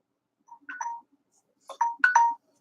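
A phone ringtone for an incoming call, two short bursts of a bright electronic melody separated by a pause, clear and alone.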